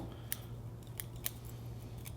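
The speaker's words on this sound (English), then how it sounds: "I'm just going to cut off some of the surface roots." Scissors snipping surface roots of a slant-style juniper bonsai during repotting, three or four crisp close cuts spaced apart over a low steady hum.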